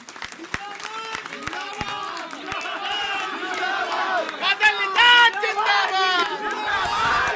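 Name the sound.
crowd applause at a rally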